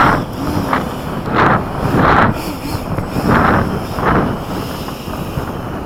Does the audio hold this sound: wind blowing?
yes